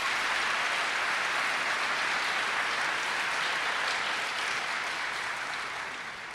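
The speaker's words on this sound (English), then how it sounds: "How about a round of applause for Hancock Bank?" Audience applause for Hancock Bank at a school lecture series event, a dense steady wash of many hands clapping that stays loud throughout and tapers slightly toward the end, with no talk over it.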